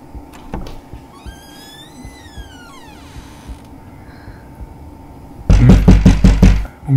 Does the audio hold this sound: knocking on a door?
yes